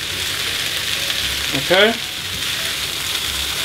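Ackee and saltfish sizzle steadily in a frying pan, a constant hiss with a brief rattling shuffle as the pan is shaken midway; a voice speaks briefly over the frying.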